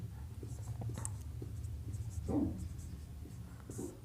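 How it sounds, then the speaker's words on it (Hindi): Soft pen or chalk strokes scratch quietly through a low steady background hum as notes are written during a maths lesson, with faint brief scrapes and a slightly louder stroke midway. "हम शॉर्ट में लिख देते हैं इसको"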